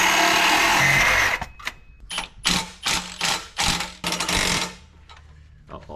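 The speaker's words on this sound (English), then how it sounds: "With an extension and the rattle gun." A pneumatic rattle gun on an extension hammers at bolts during a turbo install on a carbureted petrol engine, firing five or six loud, rapid bursts in quick succession after a noisy opening.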